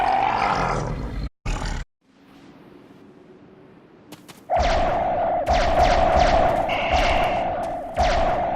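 A Gorn creature in Star Trek Online lets out loud, guttural roars in bursts, broken by a brief quiet stretch before a longer sustained roaring passage with thumping hits.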